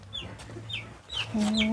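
Chickens clucking close by in a farmyard, several short rising calls spread through the clip over a steady low hum and background noise.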